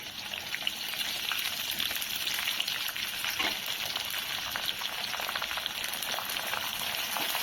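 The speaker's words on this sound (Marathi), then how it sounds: "मिरच्या थोड्या तळल्या तर आपण कांदा टाकू।" Green chillies and onion fry in hot oil for poha, giving a steady, soft, close crackling sizzle that carries on without a break.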